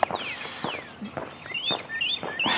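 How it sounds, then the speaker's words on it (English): Songbirds chirp and whistle in quick, rising and falling phrases along a quiet early-morning Alabama road, with a few nearby footsteps and soft thumps underneath. "the birds are really active right now"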